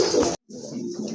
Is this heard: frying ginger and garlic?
no